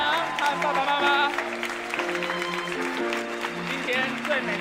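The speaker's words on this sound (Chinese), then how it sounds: "掌声欢迎新娘和爸爸妈妈" Warm applause fills a church wedding ceremony as the bride enters with her parents, steady clapping blending with sustained instrumental music throughout.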